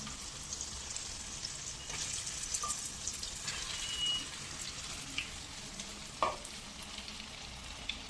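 Onion and tomato fry in oil in a pan, giving a continuous moderate sizzle with occasional scraping stirs and small clinks, no voices.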